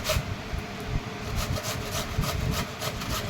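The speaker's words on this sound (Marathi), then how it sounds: "आता स्वराने काकडी किसायला सुरुवात केली" Cucumber grated finely by hand for Konkani sweet cucumber vade: a continuous, close rasping scrape with quick repeated strokes, no voices.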